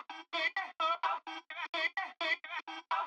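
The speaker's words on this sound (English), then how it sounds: "here's like a little vox chop or vocal chop thing I have going on at certain parts of the song" A rhythmic vocal chop in a hip hop track, treated with distortion, EQ and a sample delay widening the left side, repeats as a quick stuttering series of short clipped syllables with tiny silent gaps.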